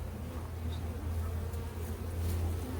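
Bees flying around an open beehive outdoors, a steady low droning hum that holds throughout with faint rustling on top.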